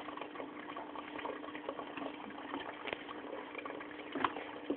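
Filtered water flows out of the final compartment of a wet/dry aquarium filter, after passing through volcanic rock (tezontle) media: a steady, close trickling and bubbling with small splashes, no voices.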